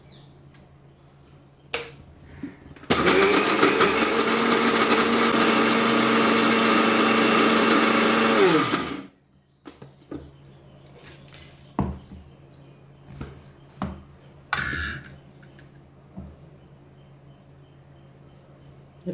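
Mixer grinder jar grinding sambar premix powder with asafoetida, salt and turmeric, a loud steady high whine lasting about six seconds that cuts off abruptly, followed by scattered clicks and handling knocks in a quiet kitchen.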